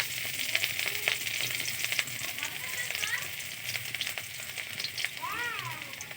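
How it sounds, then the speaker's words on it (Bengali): Chopped garlic frying in hot oil in a kadai, with cumin, dried chilli and bay leaf already tempered, gives a steady close sizzle throughout, with faint scraping of a spoon and a brief stir near the end. "ফোড়ন হয়ে গেছে ভাজা, এবার রসুন কুচো দিয়ে দেবো"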